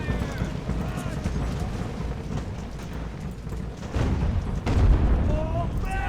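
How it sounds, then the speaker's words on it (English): Artillery booms in the naval-era battle game Ultimate Admiral: Age of Sail as a continuous low, rumbling barrage that swells louder toward the end. "Oh wow, Drake got lit up by the artillery."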